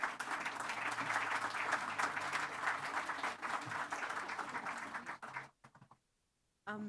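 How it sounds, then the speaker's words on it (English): Audience applause at a silver jubilee speech event, a full round of many people clapping that stays fairly even, then breaks off abruptly near the end, leaving a few scattered claps and short gaps. "Let's give them a warm round of applause."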